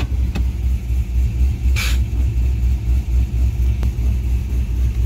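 A used Cadillac CTS-V's V8 engine idling while parked with the parking brake on. A steady, deep low rumble holds throughout, close and even, with a brief hiss and a couple of faint clicks over it.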